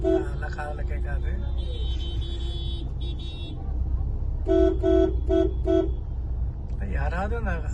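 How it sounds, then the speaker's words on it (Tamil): Several loud car horn toots sound in short bursts amid road traffic in Sowcarpet, Chennai, including a long blare and a rapid series of honks. "யாராவது அந்த ஹார்ன் சவுண்டு கேட்டாங்களா?"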